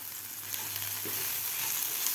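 Ground spices sizzling as they are sautéed in a pan for a Marathi-style sprouted matki bhaji, with a steady close hiss of frying and no talking.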